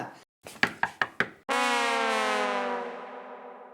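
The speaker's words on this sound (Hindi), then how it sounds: "भिड़े अंकल दरवाजा खोलो" Five quick, sharp knocks land on a door in a tight series, then a loud, sustained tonal blare takes over and slowly fades.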